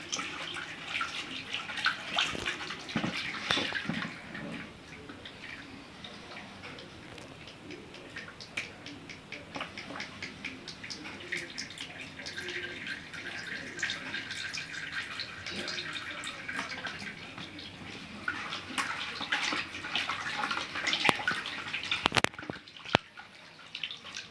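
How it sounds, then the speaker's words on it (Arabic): Used cooking oil for homemade soap being strained and stirred, a steady liquid trickle with faint clinks and scrapes of stirring throughout, up close and continuous. "المفروض وانا بصفي اقلب شويه بشويه."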